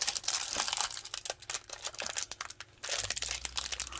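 Plastic crinkles and rustles continuously up close as a bag of Nanoblock building pieces is handled and pulled open.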